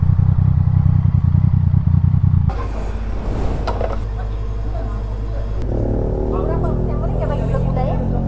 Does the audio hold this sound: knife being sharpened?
no